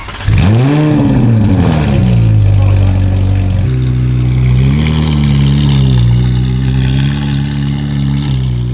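A Ferrari engine revs hard on a dyno, pitch climbing and dropping through loud, sustained sweeps with a deep, rumbling exhaust close by.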